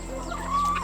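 Egg-laying hens on a backyard farm cluck briefly at feeding time, a close, short burst of fowl calls over a steady background hum.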